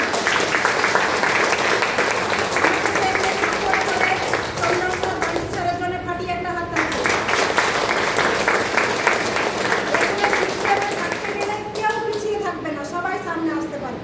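Audience applause fills a hall at a motivational talk about earning money from home, a steady wash of clapping that lasts throughout, with voices talking over it in places.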